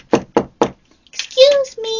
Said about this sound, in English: You always got to knock. You got to knock on your paper,